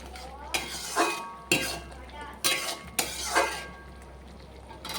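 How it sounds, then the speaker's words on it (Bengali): Fried chicken pakoras are folded into a thick simmering chilli chicken gravy, with a spoon clinking and scraping against the pan in about five distinct strokes over a faint, quiet background. "এবার চিকেন পকোড়াগুলো দিয়ে দেব, ভালো করে মিলিয়ে নেব।"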